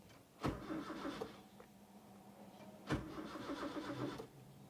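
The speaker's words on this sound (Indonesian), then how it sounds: "Saya coba di starter dulu." A car engine is cranked twice with the starter without catching, each attempt a sharp start followed by about a second of whirring, turning-over grind, with quiet pauses between.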